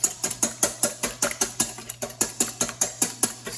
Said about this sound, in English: we need to whisk our eggs together